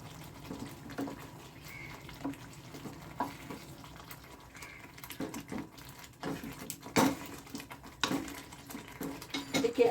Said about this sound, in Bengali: এটাকে আবার একটু ভালো করে নেড়ে চেড়ে দিচ্ছি